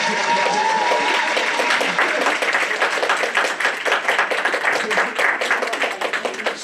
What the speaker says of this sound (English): I'm always worried I'm not going to get applause, so I'll bring my own with me